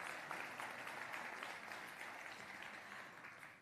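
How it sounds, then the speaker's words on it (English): Audience applause at an investment conference in Gauteng, a broad, steady wash of many people clapping in a large hall, fairly faint overall and gradually fading over a few seconds. "Let's give him a big round of applause,"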